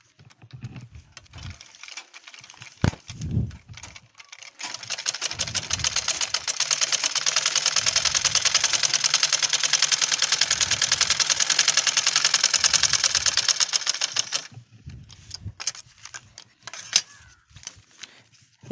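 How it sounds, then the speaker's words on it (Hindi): A sewing machine stitches fabric for a homemade grow bag in one continuous, rapid, buzzing run of about ten seconds, framed by scattered handling clicks and knocks before and after. "अब इसको हम यहाँ से 1-1 इंच सिलाई लगा देंगे"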